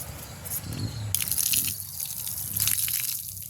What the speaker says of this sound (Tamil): நாங்கள் கோயிலுக்குள்ளே போக முதல் காலை கழுவிட்டு தான் போகணும்